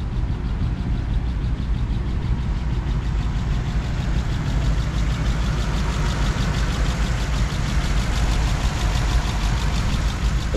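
A 1949 Ford Custom Convertible engine idles at a steady, even pace with a low, continuous rumble. It sounds close and fairly quiet, with no talking over it.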